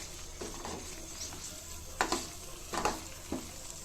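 Grated coconut being stirred into tamarind gojju in a pan: a soft, steady sizzle runs throughout, broken by a few louder scraping strokes of the spoon toward the end.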